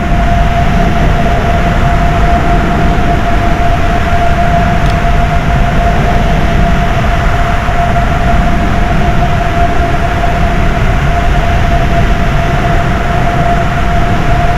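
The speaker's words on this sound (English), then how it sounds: "Afterburner comes on." A jet aircraft engine at RAF Manston roars at full power with the afterburner lit, a very loud, unbroken broadband rush carrying a steady high whine throughout, with no voices.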